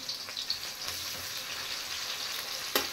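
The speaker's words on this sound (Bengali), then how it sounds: "এবার পেঁয়াজগুলো একটু ভেজে নেব।" Two medium chopped onions fry in a pan with a steady, close sizzle that holds for the whole stretch; there is no talk.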